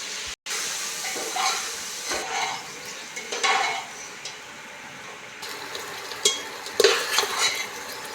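Stuffed brinjal curry with tomato and salt being stirred in a pan, irregular scraping strokes of a spoon against metal with a light sizzle underneath, close and moderately loud, no talking.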